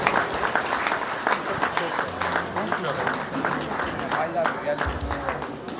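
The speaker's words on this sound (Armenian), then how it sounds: "Ջեմ ծափարություն նվիրենք մեր փեսային" Guests at an engagement party applaud the groom, a crowd of hands clapping steadily at close range while a voice talks over the applause.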